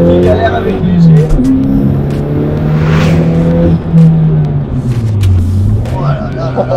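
Loud in-car engine of a Dallara Stradale sports car pulling hard on a racing circuit, revs sweeping up and dropping at shifts, a steady roar with occasional exclamations from the occupants.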